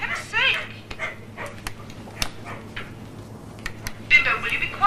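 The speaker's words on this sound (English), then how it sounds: "Can't you cut out the damn barking?" A dog named Bimbo barks, yips and whimpers in repeated sharp bursts close by, mixed with people talking throughout.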